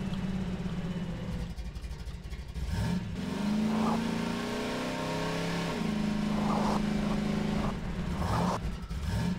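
A vehicle engine from the game Half-Life 2 revs steadily while driving, its pitch climbing and dropping through several gear-like sweeps, loud and close with no voices over it.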